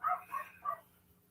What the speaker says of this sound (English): There's that damn dog.